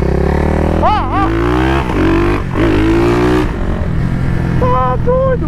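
A Yamaha XT660 motorcycle engine revs hard during a wheelie, close and loud, its pitch swinging up and down in repeated throttle bursts over a steady rumble.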